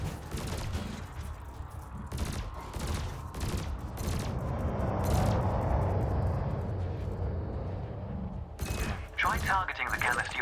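Spaceship cannon and laser fire in the video game Elite Dangerous: repeated sharp weapon bursts over a rumbling, swelling mechanical roar, then a final flurry of quick shots, with a voice talking over parts of it.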